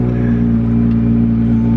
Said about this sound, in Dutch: als je de motor aanlegt, moet die altijd meteen